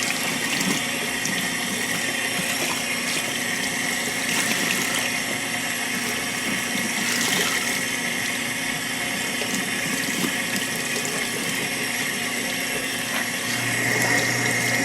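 Tap water runs steadily into a sink as hand-dyed fabric is rinsed, a continuous close hiss and splash that holds the whole time with no talking.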